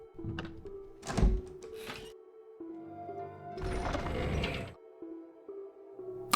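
An item box in a Resident Evil game opening with mechanical clunks, ratcheting gear sounds and a heavy thunk, in two distinct bursts over a low ambient tone.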